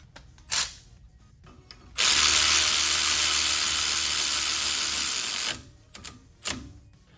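Ratchet tightening a 10 mm bolt on the brake hose bracket of a 2015-2017 Ford F-150 4x4: a couple of sharp clicks, then a close, sustained whirring run of about three seconds, followed by a few short clicks.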